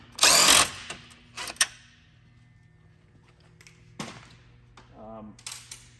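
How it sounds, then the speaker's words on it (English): Ratchet socket clicking on a 12mm corner bolt during front bumper installation on a 2022 Toyota Tundra: a loud burst of rapid ratcheting near the start, then a shorter burst and a few sparse metallic clicks later. "we need to remove this bolt right out here on the corner. That one takes a 12mm."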